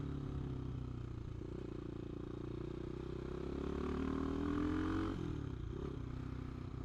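CCM Maverick motorcycle, a Bolton-built bike, riding quiet country roads through the dales; a steady engine drone with shifting pitch and a brief change near the end, continuous and moderately loud with wind noise.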